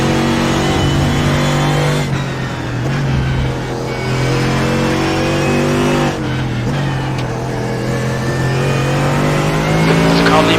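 Race car engines roar continuously in iRacing at Canadian Tire Motorsports Park, loud and close with rising and falling revs and shifting gear pitch, while a voice talks over the engine noise.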